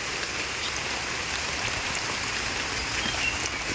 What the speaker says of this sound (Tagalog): Ngayon umuulan, maambon na.